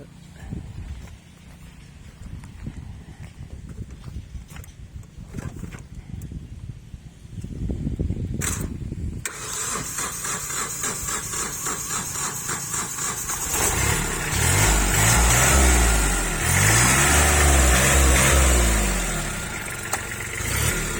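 A farm tractor engine cranks over, then catches and settles into a loud, rhythmic knocking idle that grows heavier and more throbbing toward the end.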